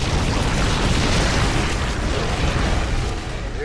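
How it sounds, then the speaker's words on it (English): A loud explosion in StarCraft 2: Wings of Liberty, a continuous heavy roaring blast that holds for several seconds and then fades slightly, with no voices over it. "First explosion. It's getting ready to blow."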